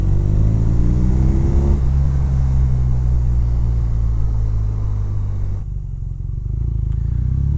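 A BMW F900R motorcycle engine pulls at low revs, around two to three thousand, rumbling loud and close with a steady throb. The pitch rises under acceleration, drops at a shift, then settles again.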